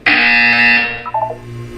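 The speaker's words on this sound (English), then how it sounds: "You will hear a buzzer." A loud electronic buzzer from the video game Portal 2 sounds as one sustained harsh tone, then cuts off into a short decaying tail of fainter tones.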